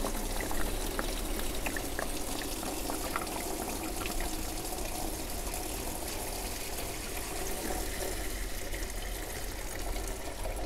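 Coolant draining from a car radiator and its hose, a steady gushing pour of liquid running continuously without pause, close and even in level, with no talk over it.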